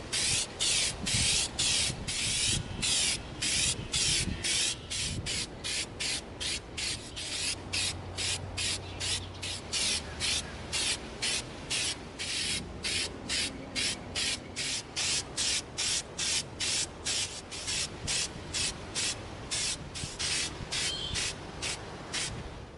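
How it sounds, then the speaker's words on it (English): A spray can of Plasti Dip rubber coating hisses in rapid, evenly spaced short bursts onto an EVA foam axe, a steady rhythmic spritzing that continues throughout at close range. "We're going to begin coating our Dragonbone axe with our Plastidip."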